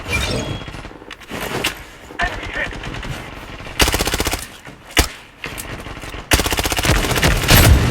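Rapid automatic gunfire in the shooter game Blood Strike, loud bursts and single shots crackling in uneven clusters throughout, with sharp impacts and a few brief gaps between volleys.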